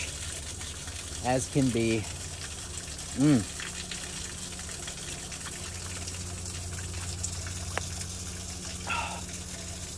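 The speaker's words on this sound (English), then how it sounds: "filling up my personal water bottle" Water gushes steadily from a tap into a personal water bottle, a continuous rushing fill, while a person briefly speaks and hums over it near the start.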